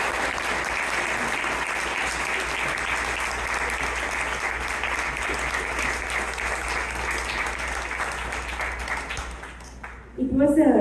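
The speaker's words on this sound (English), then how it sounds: "So please give one more round of applause" Sustained applause from a concert audience at a festival finale, steady and dense for about ten seconds before tapering off briefly, then swelling again near the end.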